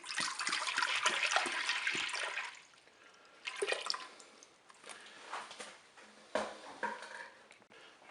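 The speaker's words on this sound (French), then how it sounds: "Je vais maintenant verser le lait dans la cuve." Milk pours into the bowl of a Cookeo multicooker, a close splashing, gurgling liquid stream that fades and returns in short bursts with a few drips between.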